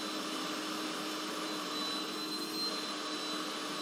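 A vacuum cleaner runs continuously at steady volume, its broadband whooshing motor roar carrying a faint high whine, with no talking over it.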